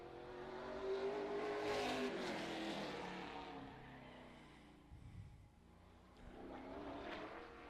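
A race car on a short-track qualifying lap, the number 10 car, roars loudly and steadily close by, its engine note rising and falling as it works through the lap with no talk over it.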